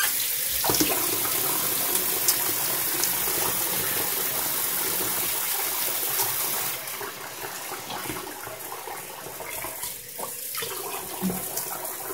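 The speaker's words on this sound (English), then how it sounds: "Let me rinse it off here real quick." Tap water runs steadily into a sink as someone rinses off after shaving, a continuous close splashing hiss that shifts slightly in tone partway through, with no talking.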